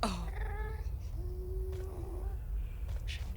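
An angry cat yowls in the video game Minecraft, a drawn-out, wavering cry over a steady rumble of in-game background noise.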